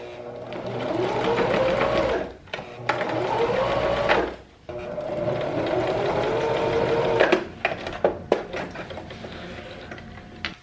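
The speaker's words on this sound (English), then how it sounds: "I'm going to sew up this final seam now." Sewing machine stitching the final seam of holographic fabric pants, a loud steady whirring run that pauses briefly twice, then slows into short bursts and stops near the end.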